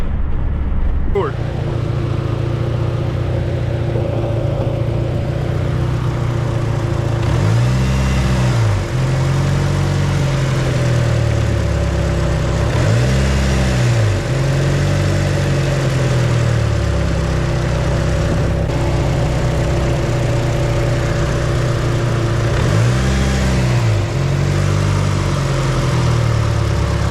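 A Mitsubishi Evo 8 with a Link ECU swap idles steadily throughout, broken by several throttle blips that swell the engine note and fall back to idle, the revs rising sluggishly. It is loud and close, with no one talking.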